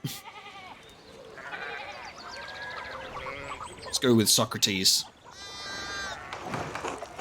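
Sheep bleat several times in the video game Pentiment, with wavering cries scattered among talk and a brief burst of louder game sounds in the middle.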